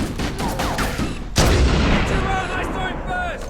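Heavy gunfire and booming blasts in the video game Halo: Combat Evolved, a dense barrage under excited shouting and chatter from in-game characters.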